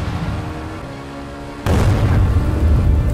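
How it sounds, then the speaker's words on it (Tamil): A missile bomb explodes just in front of a motorbike in a sudden loud boom, after a steady rumbling drone, with a heavy roar sustained to the end. "அப்ப திடீர்னு மிசைல் பாம்பு ஒண்ணு வந்து பைக் முன்னாடி வந்து வெடிக்குது."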